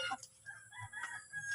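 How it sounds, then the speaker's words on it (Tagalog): Breeding chickens on a Filipino farm give soft, distant clucks and a faint crowing rooster, all quiet against low background noise. "Dito yung ating breed na mga manok mga katropa"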